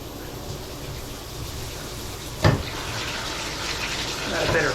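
Water runs steadily from a newly replaced shower head in a home bathroom, a constant broadband rush with a brief louder splash midway, while a person talks faintly over it.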